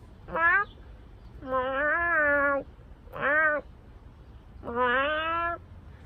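A human voice imitates a cat, giving four whiny meows in a row, short and long alternating, with quiet pauses between.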